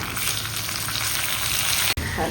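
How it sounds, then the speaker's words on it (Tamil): Spices tempering in hot oil in a pan for kuzhambu, a loud close sizzle and crackle running steadily throughout, with one sudden brief break near the end. "இப்படி தாளிச்சு கொட்டிடலாங்க"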